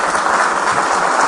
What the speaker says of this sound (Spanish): cuando oigo los aplausos